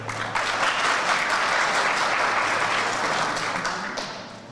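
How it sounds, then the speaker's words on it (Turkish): Dense, steady applause rises from the crowd for the neighbourhood heads at an AK Party Çameli district iftar gathering, filling the room for several seconds before tapering slightly. "mahalle başkanlarımızla şöyle gönülden bir alkışlayalım inşallah"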